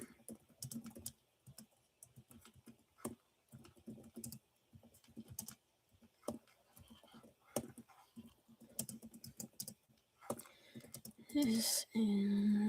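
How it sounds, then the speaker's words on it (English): Computer keyboard typing in irregular bursts of quick clicks through most of the stretch, fairly close, with pauses between runs and a short louder noise near the end; no talk over it. "I'm typing out a Instagram post right now."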